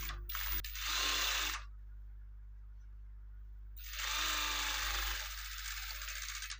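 A sewing machine stitches a blouse waist hem in two steady bursts, each running about a second or more, separated by a quiet pause with a low mains hum underneath; no one talks.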